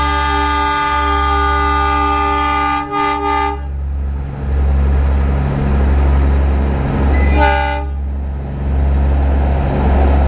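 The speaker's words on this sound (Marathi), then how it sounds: "आता हे बघा परत ट्रेन आली आहे फाट्यावरती." A train passes a railway level crossing on the road to Matheran, its loud horn sounding in long sustained blasts and a short final toot over the deep rumble and clatter of the wagons rolling by close up.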